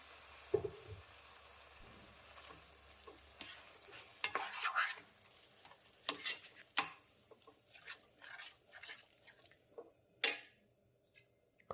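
Thick khara pongal being stirred and mixed in a pan: irregular wet squelching scrapes and soft spoon knocks, close and fairly quiet, with a faint sizzle underneath and no talking.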